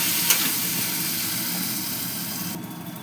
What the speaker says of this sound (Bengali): চালটা দিয়ে এবার আমি মশলার সাথে ভালো করে চালটাকে মিশিয়ে নেব।